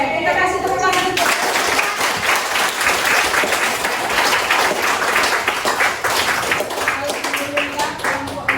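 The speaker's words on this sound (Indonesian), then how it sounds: "Oke, kita kasih tepuk tangan untuk" A classroom of students breaks into loud, sustained applause for a student group as it gets ready to present, with dense clapping close by and children's voices mixed in.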